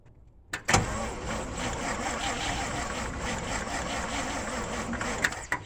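A flooded engine cranking and struggling to catch: an abrupt start followed by a steady, rough, rumbling churn that holds for several seconds up close.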